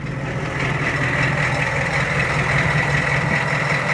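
A 1991 Ford F250 with an IDI diesel engine idling close by, a steady low rumble with a rhythmic diesel clatter, loud and continuous with no voices.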